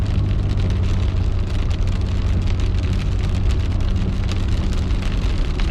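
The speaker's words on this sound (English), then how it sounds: "It's raining." Steady rain drums on a car while driving through Weber City, Virginia, a dense continuous patter over low road rumble, loud and unbroken throughout.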